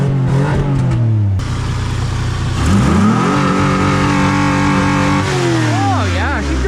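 A 1975 Dodge D600 truck engine, running on race gas, roars loudly close by, its pitch climbing and falling through repeated revs, with someone talking over it.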